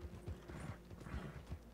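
A horse's hooves clip-clop in a steady walking rhythm in the Red Dead Redemption 2 video game, close and distinct, several soft thuds in quick succession.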